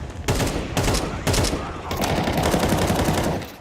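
Rapid bursts of automatic gunfire from a Counter-Strike match, loud and close, with sustained firing breaking into separate volleys before blending into a continuous rattle.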